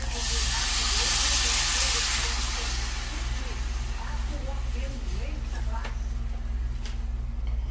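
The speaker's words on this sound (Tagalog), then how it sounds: "Hayaan na lang muna natin siyang kumukulo na." A steady hiss and bubbling of coconut milk boiling in a pot, loud and close, with a low hum beneath and a voice speaking over it.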